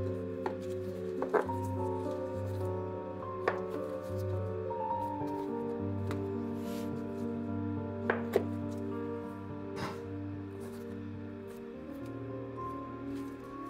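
A ball of noodle dough for Lao chicken noodle soup is cut into four pieces, giving a few sharp knife or scraper knocks on a board over steady background music.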